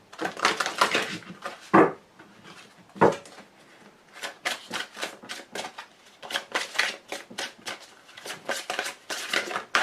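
Deck of angel oracle cards being shuffled by hand, a run of crisp riffling and slapping bursts with short pauses between, close and clear with no talking.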